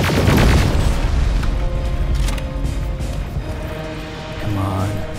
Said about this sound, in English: Canister bomb.